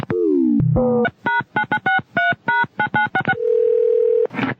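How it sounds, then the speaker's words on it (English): A telephone dials through to a switchboard: a low descending tone, then a rapid sequence of distinct touch-tone beeps, followed by a steady ringback tone and a click, loud and close with no talk. "I wonder if we can get through to the switchboard."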